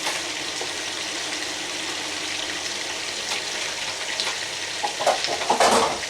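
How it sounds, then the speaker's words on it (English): Sliced onions frying with sausage in a pan give a steady, close sizzle that continues throughout, with a few louder crackles and spits near the end. "I'm going to add some sliced onions."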